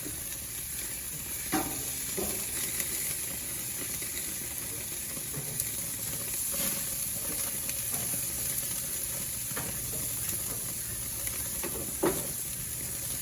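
Hamburger patties frying in a pan give a steady, close hiss of sizzling fat, broken by a few sharp pops and scraping clicks, with no talk.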